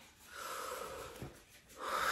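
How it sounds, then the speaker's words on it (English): A single deep breath, a soft drawn-in airy wheeze rising over a couple of seconds, close and fairly quiet. "take a deep breath"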